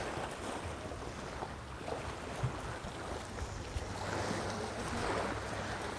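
Breezy wind buffets the microphone by the bay at Puerto Pollensa, Mallorca, a steady low rumble with a soft wash of water behind it, continuous and fairly even throughout.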